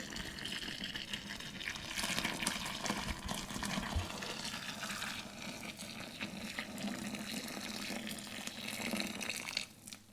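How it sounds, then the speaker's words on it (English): Hot water from kettles pours steadily into a vessel for making country wine, a continuous splashing and gurgling rush that sounds close and lasts throughout, briefly dipping near the end. "Are you ready? Here comes the hot water."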